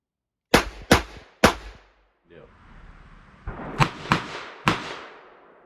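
.38 Special revolver shots fired in two groups, three sharp loud cracks and then three more after a short pause, with rumbling noise between them.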